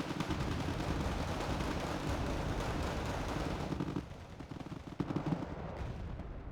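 Missile launcher firing amid a dense, continuous roar of battle gunfire and explosions in the wartime strategy game Wargame: Red Dragon, loud and sustained, thinning briefly before a few sharper bursts near the end.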